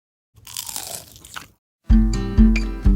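Crispy Vietnamese spring rolls give a faint rustle, then after a short pause come three loud, sharp crunching bites in quick succession, close and alone without voices.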